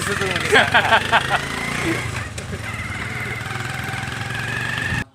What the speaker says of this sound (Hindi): ये हम बैठे बाइक पे, ये और मैं बैठा इसके पीछे।